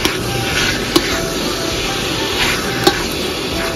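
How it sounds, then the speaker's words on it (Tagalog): Pork and pepper being stirred in a hot pan, with a continuous loud sizzle broken by a few sharp utensil taps against the pan, heard close and alone. "hayuin lang natin siya para mahalo ng maayos yung pepper at kumalat siya sa lahat ng pork"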